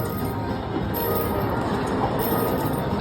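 A steady, dense rumble of a train sound effect plays continuously in the Luxury Liner Cash Express slot game, with faint metallic clinks mixed in and no pauses.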